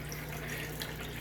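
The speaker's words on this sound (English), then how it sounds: "as the water comes down, it's washing the lighter material away" Running water spills over gravel during gold panning where pyrite turns up, washing the lighter material away in a steady, close, uninterrupted wash with no voices.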